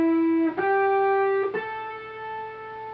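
An electric guitar plays a short phrase from the final solo of a song: three clean sustained notes picked in quick succession, each ringing out, the last with vibrato.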